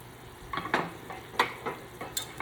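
Taco meat cooks in a pan with a soft, steady sizzle, while a utensil stirs and scrapes it in a few quiet, irregular strokes.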